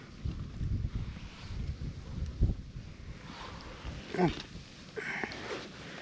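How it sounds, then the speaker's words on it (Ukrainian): Rising wind gusts rumble against the microphone outdoors during winter ice fishing, rising and falling, while a person speaks briefly over it. "Вітер розганяється."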